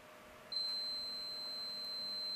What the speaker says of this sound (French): on entend bien l'alarme sonore, donc on sait qu'il y a une fuite